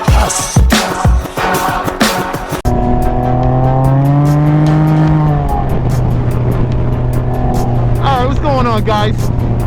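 A Can-Am Ryker three-wheeler fitted with a Baja Ron sway bar: sharp clicks and bumps at first, then a loud steady engine drone with rising and falling revs and a whining pitch sweep near the end.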